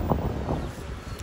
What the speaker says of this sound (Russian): Правда, ветер, друзья, я не знаю, как будет отражаться это на звуке